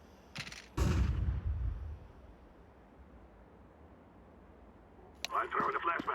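A flashbang grenade in a video game goes off with a loud, close burst that trails away into a long hiss, followed later by clattering in-game noises.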